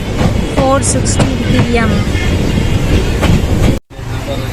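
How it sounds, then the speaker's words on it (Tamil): Passenger train rolling on rails between stations near Hebbal, with steady rumble and clattering wheels, some squeaks and a brief drop near the end; a voice speaks briefly over it. "நம்ம ட்ரெயின் பார்த்தீங்கன்னா இப்போ ஹெபால் வந்திருக்கு."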